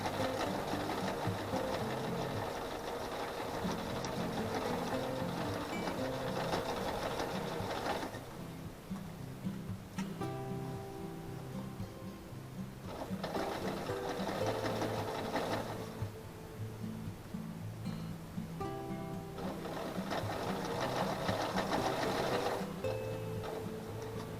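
A sewing machine runs back stitches across a patch on jeans, a steady rapid mechanical whir in long bursts with brief pauses between them, close and fairly loud with no talking.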